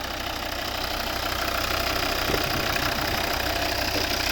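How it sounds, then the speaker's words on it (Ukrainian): A 2012 Volvo V60 2.0 D3 diesel engine with automatic transmission idles steadily and evenly, a low continuous rumble with faint ticking, no voices. "Просто шепче цей двигун."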